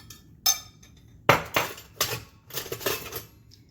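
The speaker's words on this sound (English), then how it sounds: "I'm going to try to flip that pancake over and see how it turns out" Metal clinks and scrapes of a spatula against a pan while a pancake is flipped, several sharp knocks and clatters in quick succession in a quiet kitchen.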